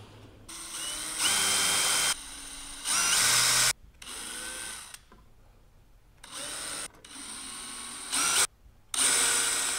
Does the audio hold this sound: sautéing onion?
no